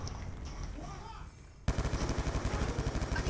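Gunfire in the video game Black Ops 2 follows a quieter stretch: a sudden sharp report, then a rapid, loud burst of repeated shots close by.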